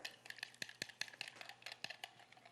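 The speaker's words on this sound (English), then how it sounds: "we're just going to whisk those together" Dry mustard being whisked into a salad dressing in a bowl, a quick rapid ticking and clicking of the whisk against the bowl in an uneven, continuous rhythm, close and faint.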